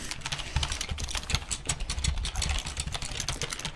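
Rapid typing on an old beige Microsoft computer keyboard, dense close clacking keystrokes in a continuous, busy rhythm with no pauses or talk.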